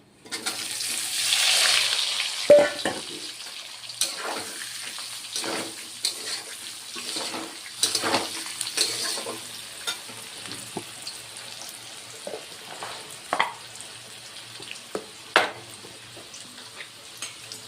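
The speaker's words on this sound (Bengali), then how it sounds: "এবার ভেজে রাখা আলু আর পেঁপেটাও দিয়ে দিচ্ছি" Fried potato and papaya pieces tipped into a hot pan of oil with bay leaf, giving a crackling sizzle followed by repeated stirring scrapes and soft clatters of a spatula, with no voices.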